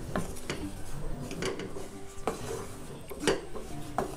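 A spoon scrapes and knocks against a pan as flour roasts in ghee for gul papdi and lumps are broken up, repeated clinks and rubbing strokes close by, with no talk.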